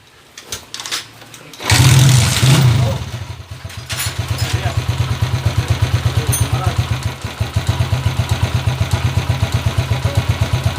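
A motorcycle engine starts after a few clattering attempts and settles into a steady, rapidly pulsing idle, loud and close for the rest of the clip.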